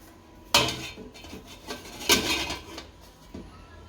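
A few sharp metallic clanks and light scrapes as a plate is set down on top of a steel steamer pot, loud and close with quiet pauses between.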